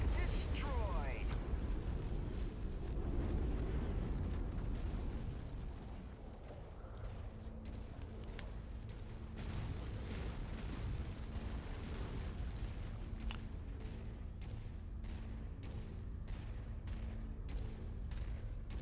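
A hulking enemy mech blows apart in a MechWarrior-style game, a heavy rumbling blast followed by a long stretch of thuds, crackles and mechanical clanks, with a person talking over it.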